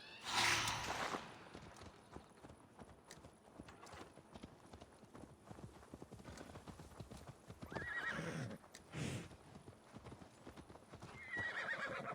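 In the video game Assassin's Creed Valhalla, hooves clip-clop steadily as a following horse walks close by, with loud whinnies breaking in at the start and again later; no talking.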